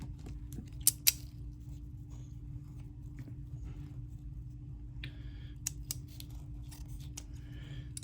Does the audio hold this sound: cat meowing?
no